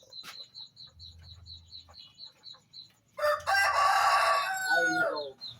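A rooster crows loudly and close, a long harsh cock-a-doodle-doo following a stretch of quieter clucking and a high repeated bird chirp.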